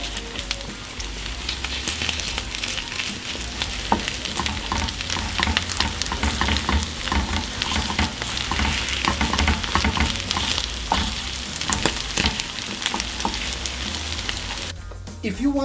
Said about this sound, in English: Now for the eggs, we are going to open the pads for the white part like this, so it can cook better.